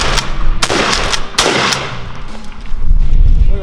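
Shotgun firing steel shot, several loud close sharp blasts in quick succession with ringing tails, followed by rustling and handling noise.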